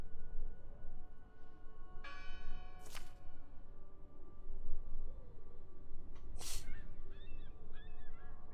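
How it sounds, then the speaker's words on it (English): Church bell in the video game Draugen rings twice amid an outdoor ambience, each stroke a sharp loud clang that fades, with birdlike honking calls in between. "Listen! The bell! They're still in there!"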